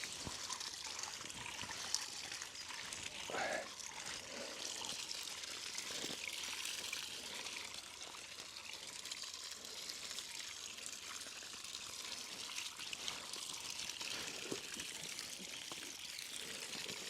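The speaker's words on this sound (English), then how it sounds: "You basically want the water to flow through this section so you don't get soaked" Water runs steadily through a pipe fitting during plumbing work on a Portuguese stone house renovation, a continuous close hiss and trickle with no pauses and no talk.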